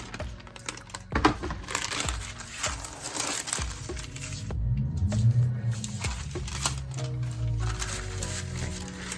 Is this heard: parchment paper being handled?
yes